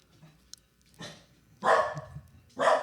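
An excited dog guarding the door at home lets out three loud, close barks, the last two strongest, over a quiet background.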